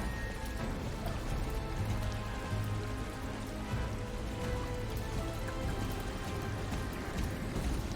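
Rain falling in the horse-riding video game Star Stable Online, a dense, even hiss of drops spread across the whole clip with no speech, steady and moderately loud throughout.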